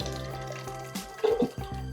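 Canned vegetables are poured with their liquid into a cooking pot for Puerto Rican rice, a short close splash and gurgle of liquid with a few drips.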